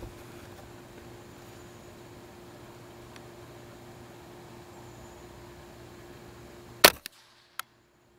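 A single loud rifle shot fired during a test of a cheap Amazon scope, a sharp crack against steady outdoor noise and a low hum, followed by two fainter clicks.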